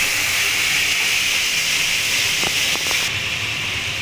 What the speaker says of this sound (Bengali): তেলটা গরম হয়ে গেছে, এবার আমি চিংড়ি মাছগুলোকে ভেজে নেব।